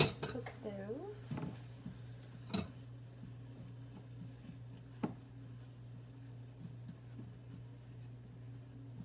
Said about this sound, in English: Just keep stirring these while I wait on the fish.